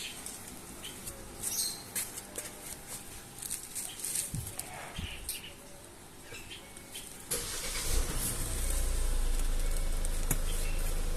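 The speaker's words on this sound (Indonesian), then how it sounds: "Nyala mesin dulu ya." A Hyundai Palisade Signature facelift starts at around seven seconds, a sudden rise into a steady low idle rumble that holds to the end, after quieter cabin rustling and clicks near a customer delivery.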